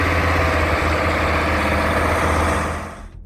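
Oliver 2255 tractor with a Cat V8 diesel engine idling in a deep, steady low rumble, loud and close, fading out at the end.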